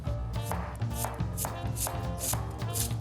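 A knife finely cutting white cabbage for a curry, giving a steady run of crisp, evenly spaced chops close by over a musical background.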